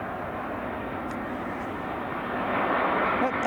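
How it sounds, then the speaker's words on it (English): A plane landing at Arlanda Airport in Sweden gives a broad, steady engine roar that swells louder toward the end as it nears. "here's another plane landing."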